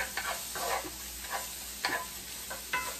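Bacon softening in a pot at the start of a lentil and chorizo dish, giving a steady low sizzle with a few faint stirring scrapes and clicks throughout, no talking.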